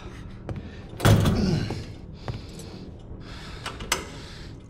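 A locked door is shaken in Resident Evil 2, a loud close rattle and thump followed by softer knocks and clicks over quiet background ambience.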